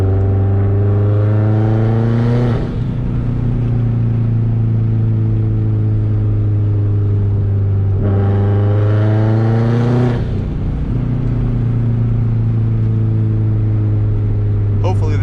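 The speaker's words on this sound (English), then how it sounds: "Turbo noise. It's the bypass valve noise." Turbocharged 2004 Subaru WRX STI at night, engine droning and rising in pitch through two pulls, each ending in a sharp whooshing bypass valve release, loud and close from inside the car.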